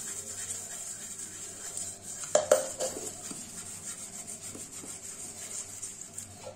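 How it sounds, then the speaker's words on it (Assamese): A pot is scrubbed clean by hand, giving soft, continuous rubbing and scraping strokes with a couple of sharper knocks partway through, close and fairly quiet. "চাওক এয়া ঘঁহি আছোঁ, খুব ভালদৰে ঘঁহিব।"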